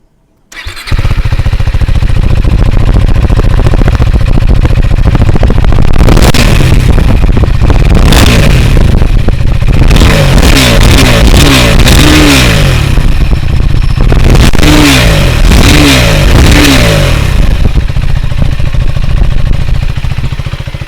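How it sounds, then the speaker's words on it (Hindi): KTM 390 Adventure motorcycle exhaust, loud and close, idling then revving repeatedly in sharp bursts, with crackling backfire pops toward the end. "चलिए इसका एग्जॉस्ट सुनते हैं"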